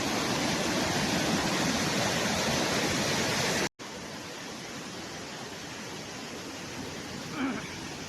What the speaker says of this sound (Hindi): बिल्कुल दूध की तरह झरना बह रहा है।